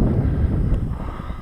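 Continuous low, rumbling wind buffeting a cap-mounted GoPro microphone during a model aircraft launch, steady and fairly loud, with no voices.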